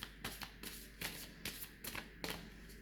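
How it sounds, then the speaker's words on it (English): Playing cards shuffled by hand close up, several quick riffling bursts in an uneven rhythm with short pauses between them, quiet and alone. "So first I'm going to clear the cards."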